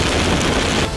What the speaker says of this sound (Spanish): Ahora de repente ha vuelto a llover con un poco más de intensidad.